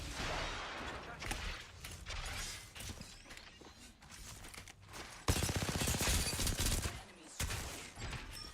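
Gunfire in a shooter video game sounds as bursts of rapid shots and crackling impacts. A louder, sustained automatic volley breaks in partway through, then drops off and returns briefly, with faint game voice lines underneath.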